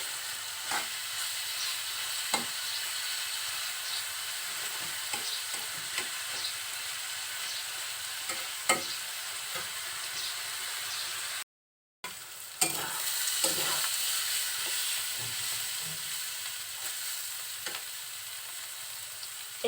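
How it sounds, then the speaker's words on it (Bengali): Fish roe frying in a pan is stirred steadily for about twenty seconds, giving a continuous sizzle broken by scraping spoon strokes, with a brief gap near the middle. "বারবার এভাবে নাড়াচাড়া করতে হবে যাতে নিচে লেগে না যায়।"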